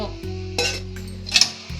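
Pots and dishes clinking and clattering in a kitchen sink while being washed during mutton pulao cooking with coconut milk, with a few sharp metallic clinks over a steady low background hum.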